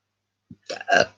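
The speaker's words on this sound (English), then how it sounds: "I don't know why I'm burping so much" A short, close burp from a person working on a handmade birthday present, a small onset followed by two louder guttural bursts in about half a second, alone in a quiet room.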